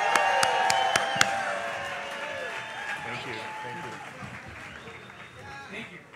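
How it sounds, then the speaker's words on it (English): A crowd claps and cheers for elected officials at an outdoor march for marriage equality in Springfield, with applause continuing steadily under scattered voices before slowly fading. "Let's give a big round of applause for these elected officials and all the officials that have come out to support us."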